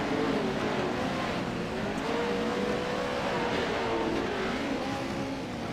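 Pro 4 race trucks roar around the Wild Horse Pass Motorsports Park track, a loud, steady engine drone with wavering pitch as several trucks race together, no talk over it.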